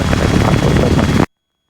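A Robinson helicopter engine and rotor throb loudly during a training hover taxi, close and continuous, then cut off abruptly.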